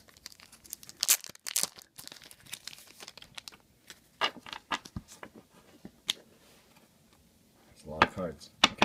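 A Yu-Gi-Oh card pack is torn open: foil crinkles and rips in several bursts, with a loud tearing flurry at the start and another near the end, close up, with some voice in between.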